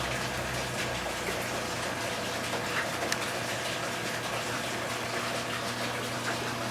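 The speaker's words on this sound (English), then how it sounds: "We pump that water through the manifold on the bottom over here." Water pumped from a roughly 700-gallon heat mass tank through a bottom manifold in a greenhouse heating system makes a steady, close, continuous rushing hum with light gurgling, unbroken throughout and without speech.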